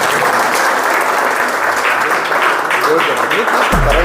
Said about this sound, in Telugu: క్లాప్స్ కొట్టండి అమ్మా